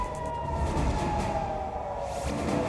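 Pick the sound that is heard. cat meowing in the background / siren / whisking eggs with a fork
siren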